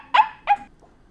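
Two sharp dog barks close together, followed by a faint short yip, loud and alone with no talking.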